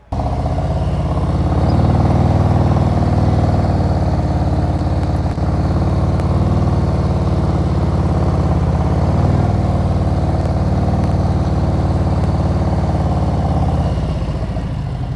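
Motorcycle engine running steadily under throttle as the rider pulls away and climbs a hill, a loud continuous close mechanical drone with slight shifts in pitch and no talking.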